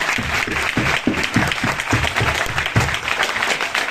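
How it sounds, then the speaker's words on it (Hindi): Audience at a business marketing-plan seminar in Faridabad applauds steadily and loudly for the full stretch, a dense wash of many hands clapping with no voice on top. "एक बार उनके नाम पे जोरदार ताली चाहूंगा"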